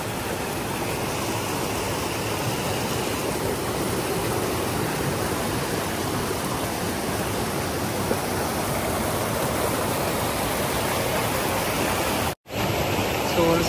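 Steady, loud broadband rush of a river flowing around people standing in the middle of it, continuous and close with no voices, briefly cutting out near the end.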